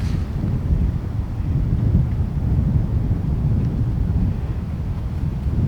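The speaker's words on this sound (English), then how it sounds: "This wind is aggressive." Strong, aggressive wind blowing across a golf course, a loud steady low roar of gusts battering the microphone with no voices.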